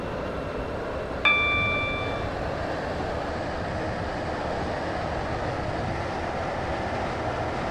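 A train running in the Roblox game SCR on a Waterline service towards West Benton, a steady broadband rumble throughout with a brief chime near the start.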